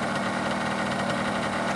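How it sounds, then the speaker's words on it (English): A 1985 Honda Gyro engine idles close by, a steady, dense mechanical drone with a faint rapid pulse that holds constant and loud throughout, with no voices. "So it's still idling."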